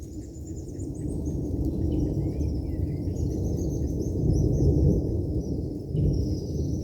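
Many birds calling in a frenzy from a tree overhead, thin high chirps and whistles scattered across the clip above a heavy low rumbling roar from the sky, moderately loud and continuous, with no voices.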